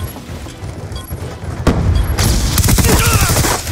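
A grenade explodes in Call of Duty Black Ops 2, a sudden loud boom followed by sustained rattling gunfire and battle noise, close and dense, with a faint voice underneath.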